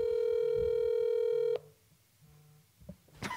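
Phone call tones over a speakerphone: a sustained steady tone cuts off abruptly, followed by fainter repeated ringback beeps and small background knocks.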